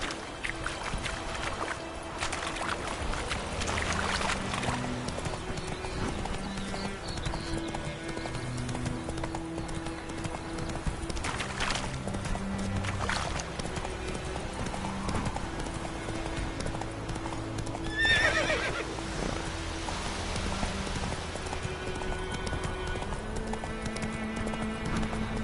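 A horse gallops in The Witcher 3, its hooves drumming in a steady rhythmic clip-clop under game music and ambient sound, with a brief louder burst partway through.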